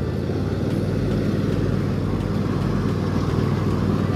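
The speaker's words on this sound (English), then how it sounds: "There we go, cutting the weeds, baby." A Cub Cadet XT1 LT46 riding mower cuts weeds with a continuous loud engine drone and steady low rumble from the spinning blades, close by and with no talk.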